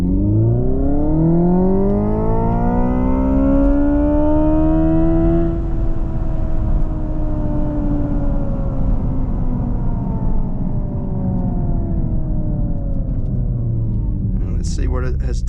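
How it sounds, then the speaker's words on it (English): A Hyundai IONIQ 5 N electric car launches hard from a standstill, its electric whine sweeping upward in pitch, loud and sustained, fading slightly near the end before a brief clatter. "Foot on the brake, then hard on the accelerator pedal."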